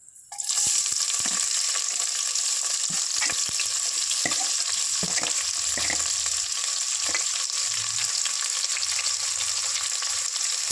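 Onions frying in hot oil for paya sherva, a sharp sizzle bursting in as they hit the pan, then a steady crackle with scattered stirring scrapes and taps.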